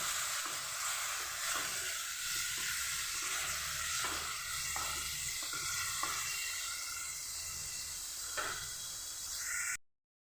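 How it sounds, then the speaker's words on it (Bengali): Steady oily sizzling of onion paste frying in a pan, with occasional soft scraping strokes of a spoon; no talking, ending abruptly. "এবার আমি দিয়ে দেবো পেঁয়াজ বাটা পেঁয়াজকে আমি এটাকে আমি সুন্দরভাবে ভেজে নেব"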